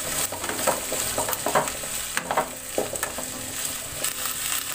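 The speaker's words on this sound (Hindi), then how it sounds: "सब गोभी को हम डाल के और इसको कर देंगे अच्छे से मिक्स" Cauliflower and onions stirred in a frying pan, a spoon scraping and tossing in irregular bursts over a steady soft sizzle, close by with no talking.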